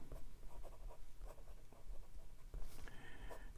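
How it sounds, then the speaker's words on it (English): Fountain pen with a very wide, broad nib and wet teal ink scratching across paper in short repeated strokes, soft and close. "It's decently wet, especially when you do the downstrokes on this very wide, broad nib"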